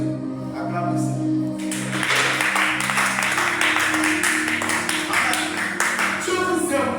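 A church congregation bursts into dense applause and clapping. It rises over sustained organ or keyboard chords and continues steadily to the end.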